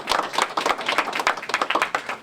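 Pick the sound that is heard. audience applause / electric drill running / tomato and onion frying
audience applause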